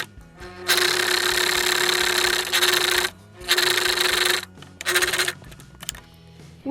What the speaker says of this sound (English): you're going to sew just a regular stitch, again back stitching at the beginning and the end.